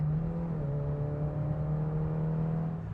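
A Peugeot 205 GTI engine pulls under acceleration on the road, a steady, fairly quiet drone that climbs gradually in pitch over a few seconds, heard from inside the car with no talking.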